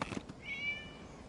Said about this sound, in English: It was just a cat.